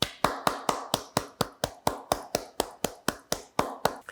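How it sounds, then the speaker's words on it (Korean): Steady, evenly spaced clapping from a church congregation at a Sunday worship service, about four sharp claps per second in a regular beat, fairly close and with no talking. "우리 하나님께 영광과 감사의 박수를 올려드리겠습니다."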